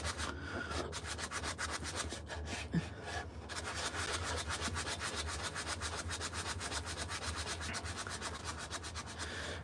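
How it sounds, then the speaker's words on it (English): Steady back-and-forth hand sanding on wood, a rapid rhythmic scratchy rasp continuing throughout at a close, moderate level. "let's do some sanding in here"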